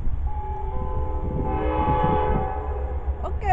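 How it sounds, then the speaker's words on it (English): A rumbling Amtrak train passes nearby at South Grand in Springfield, Illinois, sounding a long, loud multi-tone horn, with a brief clanking sound at the very end. "Here comes the train."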